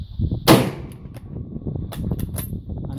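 A single sharp rifle shot cracks nearby at an outdoor service rifle shooting challenge, followed by a low rumble of wind or ambient noise and a few faint clicks.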